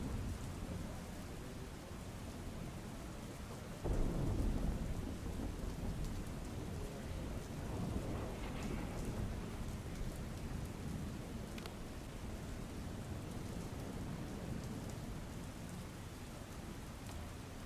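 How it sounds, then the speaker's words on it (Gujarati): Heavy monsoon rain hisses steadily in Gujarat while a low rumble of thunder rolls in partway through and slowly fades, distant and fairly quiet, with no voices. "દક્ષિણ ગુજરાત અને સૌરાષ્ટ્રમાં વરસાદ જોવા મળી રહ્યો છે ત્યારે ભારે વરસાદના કારણે નીચાણવાળા વિસ્તારોમાં પાણી ભરાઈ ગયા છે"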